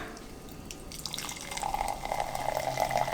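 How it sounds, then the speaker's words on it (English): McBride Sisters red wine spritzer poured from a can into a glass, a steady fizzing, bubbling stream that grows louder and more sustained over a few seconds, with no talking. "I'm going to open up first the red."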